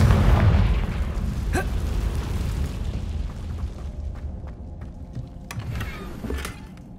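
Confringo spell blast in Hogwarts Legacy, a booming explosion at the start that rumbles and decays, followed by lighter magical crackles and pops.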